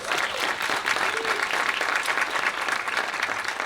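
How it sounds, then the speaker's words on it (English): Steady applause from a panel-discussion audience, honoring the panelists on a school-to-prison pipeline forum; dense, even clapping fills the room without letup for several seconds. "So give them a round of applause, please."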